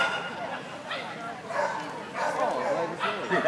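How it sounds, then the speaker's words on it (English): A small Pomeranian dog gives yappy, high barks and whimpers in short bursts, with people talking around it. "That's the Pomeranian."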